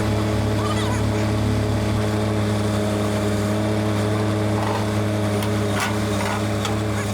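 The RS-06 vehicle's engine drones loud and continuous under heavy load while lifting and pulling a trailer, a dense steady rumble with faint voices underneath.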